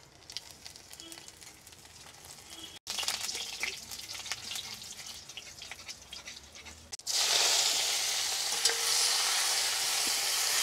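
Garlic hits hot oil before tengra fish is fried, the sizzle jumping louder after a brief gap and surging into a loud, dense hiss in the final seconds.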